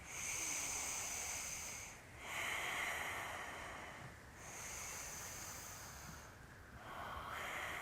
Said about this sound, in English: squeeze hand into hand, leg into leg, and 5 deep breaths